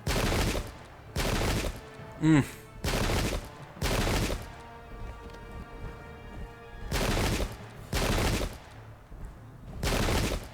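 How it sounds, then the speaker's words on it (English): Musket volleys in a Pike and Shot battle, loud crackling bursts of massed gunfire repeating in uneven waves, separated by brief gaps filled with distant battlefield noise and a sharp whistling tone. "It's just a shooting gallery. Everyone's firing at everyone."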